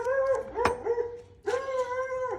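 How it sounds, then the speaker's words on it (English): A dog close by gives two drawn-out howling barks separated by a short gap, each wavering tone trailing off. "sorry for the dog, he's annoying."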